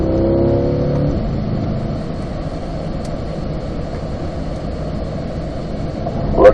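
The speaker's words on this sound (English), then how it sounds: "Then we're going to accelerate down the hill." A Chevrolet Camaro on a hillside race track carries a steady engine rumble downhill after a brief higher-pitched rev at the start, the drone holding fairly even and loud, with a small swell at the very end.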